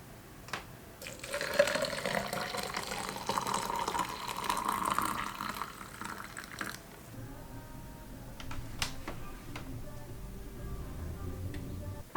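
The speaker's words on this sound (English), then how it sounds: "so I'm going to pour that boiling water into the Teami cup." Boiling water pours steadily into a Teami cup for several seconds, a broad splashing rush that then gives way to quieter clinks and small handling sounds.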